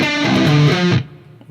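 Distorted electric guitar riff, a brief heavy phrase of a few sustained notes that rings out and drops away after about a second.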